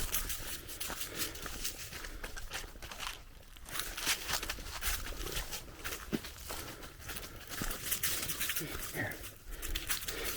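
Leashed dog panting on a hiking trail on Kings Mountain, South Carolina, with crunching footsteps on leaves and gravel and rustling throughout, heard close up with a person talking at times.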